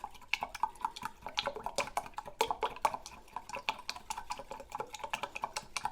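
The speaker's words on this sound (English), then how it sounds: "we just whisk the egg and the milk together a little bit" Egg and milk whisked together in a bowl for a bobotie, a rapid run of light clicking and tapping strokes with close, slightly wet metallic ticks against the dish, steady and alone.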